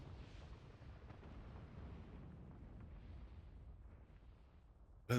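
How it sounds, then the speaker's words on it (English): A video-game explosion in Final Fantasy XIV gives a deep, rumbling blast that roars loudly and steadily for several seconds, with a sharp new burst right at the end. "Explosion."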